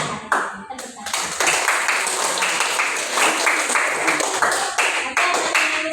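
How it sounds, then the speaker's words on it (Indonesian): Classmates in a classroom clap together after a group's presentation, a burst of close, dense hand claps with a few brief pauses that continues steadily for several seconds. "Tepuk tangan."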